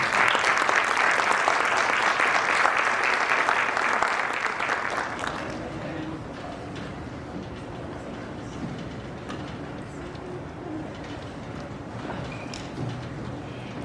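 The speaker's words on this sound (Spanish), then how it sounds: "les pido a todos un aplauso" An audience at an academic talk on educational dropout claps for about five seconds, steady and fairly loud, then the applause fades into quieter room noise with some shuffling.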